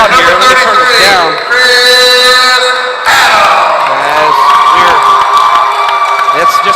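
A loud, packed crowd fills a school gym during a high school girls and boys basketball game in Perkins, with sustained shouting and cheering, bursts of whistles and buzzer-like tones, and talk mixed into the din throughout.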